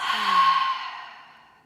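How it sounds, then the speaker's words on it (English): A deep, slow exhale during yoga breathing, a soft breathy rush that starts strong and fades steadily over under two seconds, alone with no talk. "we're going to fill up the lungs and big exhale"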